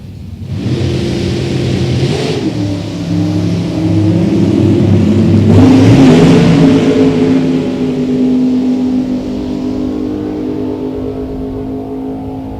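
Deuce Coupe drag cars launch and accelerate down a drag strip, a loud, continuous engine roar that surges twice and then fades slowly into the distance.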